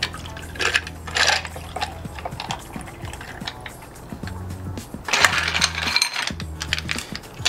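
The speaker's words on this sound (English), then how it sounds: "and then pour it over the ice." A rum and pineapple juice cocktail is poured over small ice cubes in a glass, with splashing liquid and rattling, clinking ice that swells and fades in bursts, close up, with no voices.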